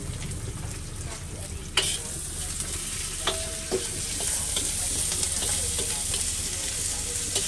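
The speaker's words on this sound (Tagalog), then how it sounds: "Ginigisa niya guys yung adobo niya." Pork adobo being sautéed in a pan, producing a steady bright sizzle with a few utensil clinks and stirring scrapes, close by and continuous.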